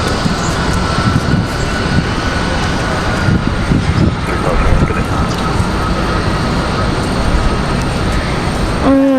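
A Delta Connection Embraer E175 jet departing down a runway at Raleigh Durham airport on a windy day, a broad steady roar with a faint whine, heard from a distance and filling the clip.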